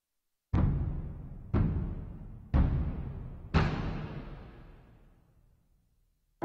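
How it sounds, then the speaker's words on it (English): A video game's match-start cue plays alone as four sharp, evenly spaced impact hits about a second apart, the last one ringing out and fading slowly into silence. "That was the sound of matches starting."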